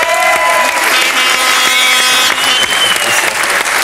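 A French television game show studio audience applauds a contestant with loud, dense, sustained clapping that fills the room evenly throughout, with no voices over it.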